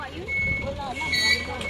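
A vehicle backing up so a van can get out, its reversing alarm beeping steadily over engine rumble while people talk nearby.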